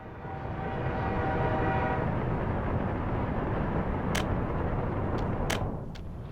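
Freight train hauled by a GP40 diesel locomotive in a Soviet-republic city-building game, a broad rumbling roll that swells and holds steady, with a few sharp clanks near the end.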